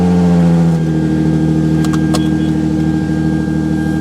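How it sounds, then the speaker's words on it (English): A 2019 BMW 430xi Gran Coupe fires up with a push-button start. A loud initial burst settles into a steady, close engine idle with a low rumbling drone throughout, and no talking. "Let's go ahead and fire it up for you guys, see what she sounds like."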